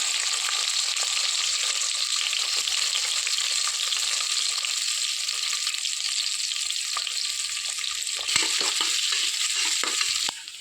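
Onions fry in oil with cinnamon, cloves, cardamom, star anise and bay leaf for avarekalu pulao, giving a loud, even sizzle with scattered stirring scrapes near the end.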